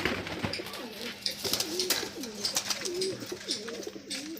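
Kala Sabuj pigeons cooing repeatedly nearby in low, throaty rolling calls, with soft rustles and flutters in the background.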